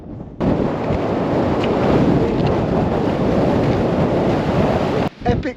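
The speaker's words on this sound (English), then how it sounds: "wind up here" Strong wind roars and buffets the microphone high on a snowy mountain ridge near Red Crater, a loud continuous rush that cuts out briefly near the end.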